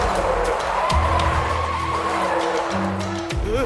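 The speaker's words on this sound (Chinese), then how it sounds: "自动驾驶系统关闭了，糟糕，切换不了手动。让开，让开！我的车失去控制了。" Animated car skidding out of control after its autopilot fails, a loud continuous tire squeal with engine roar and sweeping pitch bends throughout, no talk heard.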